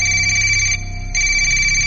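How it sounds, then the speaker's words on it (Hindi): A phone rings with an electronic tone, steady and fairly loud, with a short dip partway through before the ringing resumes. "कमरे में रखा उसका फोन बजा।"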